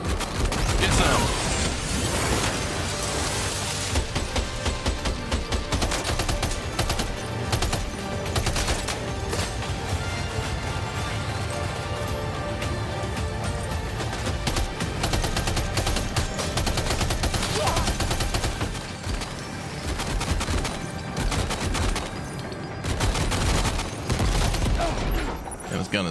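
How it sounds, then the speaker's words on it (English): Sustained heavy automatic gunfire from a hard-to-control gun in the video game Death Stranding 2 on PS5 Pro, loud and nearly unbroken for the whole stretch, with dense rattling bursts and booms. "This gun is so hard to control."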